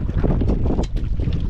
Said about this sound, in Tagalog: Pero, malakas na yung hangin.